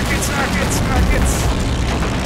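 Rockets fired from a plane burst in the Army Men toy-soldier war game, a dense, continuous roar of booming blasts under excited shouting.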